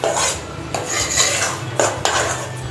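A utensil scrapes and clinks against a pan while desi jaggery is stirred continuously off the heat for sukhdi, with repeated close scraping strokes and metallic taps and no talking.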